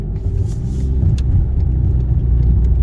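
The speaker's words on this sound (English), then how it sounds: "That's downshift with one hand." Volkswagen GTI MkV engine during a downshift while driving at night, a steady, fairly loud low rumble that holds evenly throughout with no talking over it.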